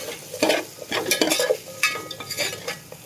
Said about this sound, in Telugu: పసుపు వేసాక కలపాలి.